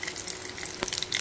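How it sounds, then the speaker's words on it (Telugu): Mustard seeds and cumin sizzling in hot oil for a tempering, a steady near hiss with a brief louder burst of crackle toward the end. "తాలింపు వేసేస్తే కొంచెం బాగుంటుంది."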